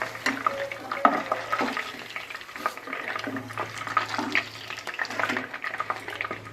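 Chicken sizzling in hot oil close up, with crackling spatter and intermittent clinks and scrapes of stirring, over a low steady hum.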